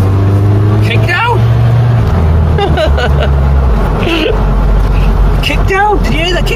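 A Ford Cortina MK3 barn find with an automatic gearbox kicks down at about 28 mph, the steady low engine drone stepping up sharply as it revs harder inside the cabin, with people talking over it.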